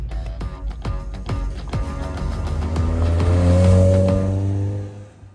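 A tuned NC Mazda Miata with an aftermarket header and flash tune revs hard while cruising a business park, the engine climbing in pitch as it speeds up, with sharp crackles, then falling away at the end.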